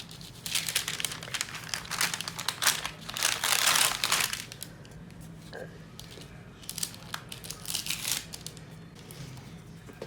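Dried coffee filter paper roses being peeled off, with close crinkling and crackling paper rustles in bursts, and a voice speaking at times.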